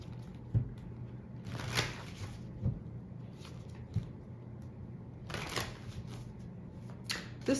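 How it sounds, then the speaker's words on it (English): Tarot cards are shuffled in several quick riffling bursts, close and fairly quiet, separated by soft taps and pauses. "So yeah, we're going to keep shuffling here."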